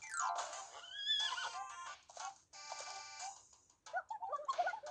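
A cartoonish horse whinny from the video game Miitopia, a shrill, wavering neigh followed by bright chiming game sounds, clean and close with short silent gaps between bursts.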